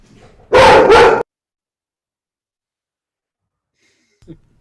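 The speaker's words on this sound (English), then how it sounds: "my dog decided that he's going to bark for the first time in 3 days" A pet dog barks at someone at the door, two quick loud barks close to the microphone, followed by near silence and a faint small noise at the end.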